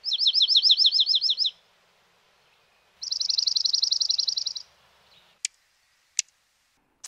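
A dark-eyed junco sings two clear, high-pitched trills of rapid repeated notes, each lasting about a second and a half with a pause between, followed by a few sharp isolated clicks in an otherwise quiet setting.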